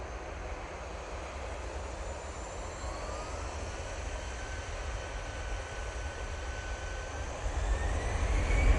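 A Boeing 787-9 Dreamliner arriving at Manchester Airport from Cancun, its engines a steady broad roar that swells slightly louder toward the end, with no voices.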